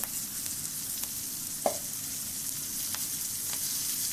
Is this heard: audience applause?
no